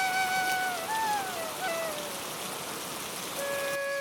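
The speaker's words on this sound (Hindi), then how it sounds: "अब्बू, बाहर इतनी लगातार बारिश हो रही है" Steady rain pattering down, a dense continuous hiss with a few faint tonal whines over it, no voices.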